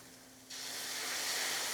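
Bone broth poured into a hot roux in a pan for chicken pot pie sets off a sudden, steady hissing sizzle that swells and holds, faint and close.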